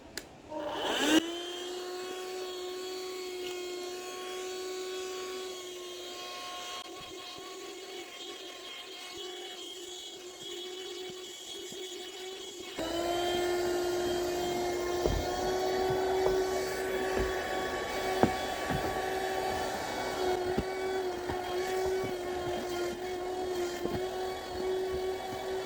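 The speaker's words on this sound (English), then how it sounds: "use this little like dust buster hand vac to get this up" A small handheld dust buster vacuum whirs steadily with a high-pitched motor tone, switching on at the start and rising louder and rougher partway through as it sucks up debris in a mobile home, no talking.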